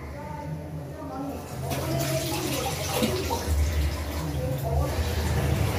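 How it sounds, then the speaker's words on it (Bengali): Water running and splashing while pointed gourd peels are washed in a kitchen, a continuous gush that grows louder partway through, with someone speaking over it. "এই পটলের খোসাটাকে ধুয়ে সেদ্ধ বসিয়ে দিই"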